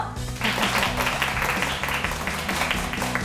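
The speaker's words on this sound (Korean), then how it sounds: "정희선 작가님을 큰 박수로 맞이해 주세요." An audience at a Korean lecture show welcomes an author with applause that rises over loud, steady background music with a deep repeating beat.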